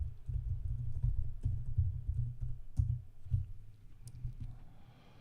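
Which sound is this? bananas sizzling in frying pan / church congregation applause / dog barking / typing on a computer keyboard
typing on a computer keyboard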